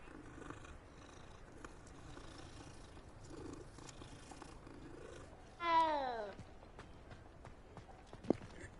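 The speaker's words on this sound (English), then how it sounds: "Surprisingly deep meow for that little thing." Cat in the Hogwarts Legacy video game purring softly and continuously, then giving one loud, surprisingly deep, drawn-out meow near the end, with faint footsteps and game ambience underneath.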